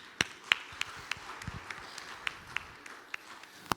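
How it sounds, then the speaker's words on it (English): Sparse applause from an audience at a sustainability and technology session, faint scattered hand claps with a few sharper claps standing out over a quiet hall. "Round of applause, please."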